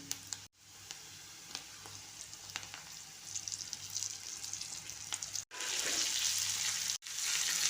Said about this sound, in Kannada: ಈರುಳ್ಳಿ ಎಲ್ಲ ಫ್ರೈ ಆಗ್ತಾಯಿದೆ. ಬದನೆಕಾಯಿ ಹಾಕ್ತಾಯಿದ್ದೀನಿ.